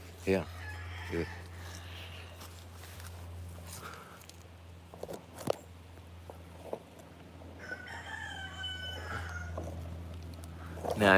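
Chickens cluck and a rooster crows a few times outdoors at a fruit farm, scattered calls over a steady low hum, with some faint voices.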